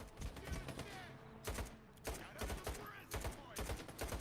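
Video game gunfire from World of Warcraft sounds as repeated loud bursts of shots with short gaps between volleys, fairly close, over a busy background with faint talk mixed in.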